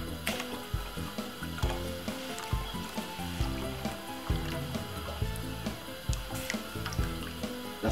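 Coconut milk poured into a pot of water for Jamaican cornmeal porridge, a steady liquid splash and trickle close by with soft repeated glugs, no talking.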